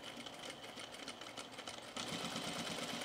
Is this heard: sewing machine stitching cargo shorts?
yes